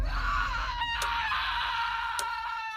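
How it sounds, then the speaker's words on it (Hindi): A witch in a forest horror story lets out a loud, sustained, high wailing scream, close and piercing, with a couple of sharp accents partway through and no speech. "चुड़ैल जोर से चीखती है। उसकी आवाज जंगल की खामोशी को चीर देती है।"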